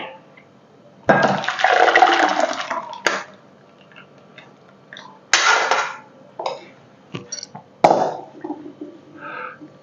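Liquid pours in a few separate bursts, splashing and gurgling loudly into a container, with quiet clinks and pauses between pours.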